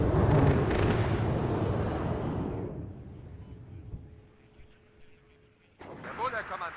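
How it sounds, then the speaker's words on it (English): Jet gunfire from F/A-18 Hornets strafing overhead in WARNO: a loud, dense roaring burst rumbles for about three seconds, then fades into a quieter lull with a low hum, before another sharp loud burst near the end. "It's lovely to see the Hornets come in and strafe like that overhead."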